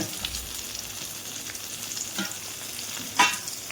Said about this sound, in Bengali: মাছটা আরেকবার পাল্টি মেরে ভালো করে নেড়ে মাছটা ভেজে নিয়ে আমার মাছটা কমপ্লিট হয়ে গেছে